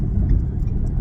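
Steady low engine rumble heard from inside a moving car, a continuous dense drone with no voices.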